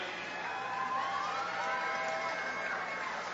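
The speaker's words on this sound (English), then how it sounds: "Give a round of applause, everybody." Crowd at a San Angelo Bandits arena football game applauds and cheers in a steady, continuous wash of clapping and shouts, heard from a distance at a fairly low level with no break.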